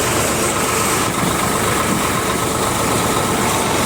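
A Sawraj 855 three-speed tractor engine running in second gear: a loud, steady, close diesel drone with constant low rumble and vibration throughout, no speech.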